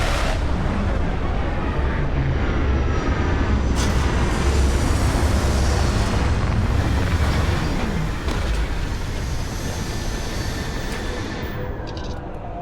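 A spaceship lands in the video game Starfield with a loud, continuous, roaring rumble of thrusters that holds steady throughout and tapers slightly at the end.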